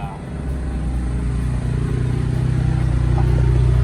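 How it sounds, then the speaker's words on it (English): A wrecked junkyard car's engine starts and runs steadily, a loud continuous low rumble with dense harmonics building over a few seconds, close by and without speech. "Now, take a deep breath and start the engine."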